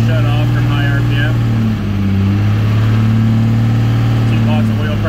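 A Cummins diesel with a flat tappet cam runs steadily at high RPM during cam break-in, a loud, continuous drone with a brief dip in the middle.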